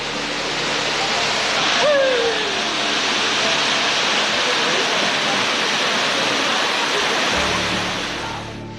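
Bhalugaad waterfall near Mukteshwar, a steady loud broadband rush of falling water that fills the whole clip without a break.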